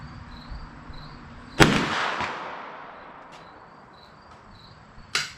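.410 shotgun slug fired from a New England Firearms SB1 single-barrel with full choke and bead sight at an outdoor range, one loud sharp shot with a long echoing tail, then a second shot near the end, crickets chirping in between.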